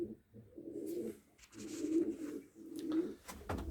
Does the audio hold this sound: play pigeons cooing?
yes